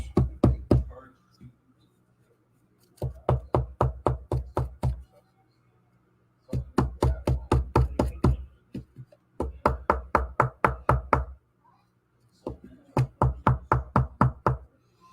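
Groups of quick, loud knocks sound close by during a miniature painting session, coming in bursts of about six to eight rapid raps separated by short pauses.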